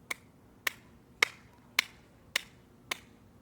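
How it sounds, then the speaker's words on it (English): Single pair of hands clapping six sharp, evenly spaced claps about half a second apart, close and crisp against a quiet background. "we should be clapping"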